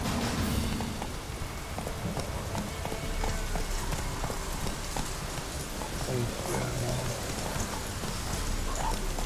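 Roach, a horse in The Witcher 3, clip-clops along steadily through heavy rain, hoofbeats faint under a constant hiss of rainfall.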